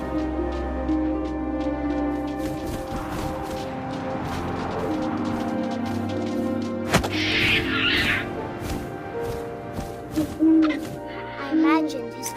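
Owl hooting in the game What Remains of Edith Finch, a couple of low calls near the end over a steady bed of wind and ambient game sound, with a brief sharp knock midway.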